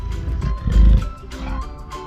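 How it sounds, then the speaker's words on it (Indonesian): A leopard roars at a zoo or wildlife exhibit, a deep rumbling roar that swells to a loud peak midway and trails off, with no talk over it. "Teman, ini namanya macan tutul."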